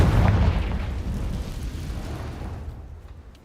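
The Confringo fire spell in the Hogwarts Legacy video game lands with a heavy, booming explosion. A deep, close blast opens, then a rumbling tail fades away over a few seconds.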